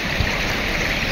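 Strong floodwater rushes through a road after constant rain. It makes a loud, continuous, broadband roar close by with no pauses.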